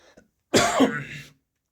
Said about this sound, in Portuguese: deu crise de tosse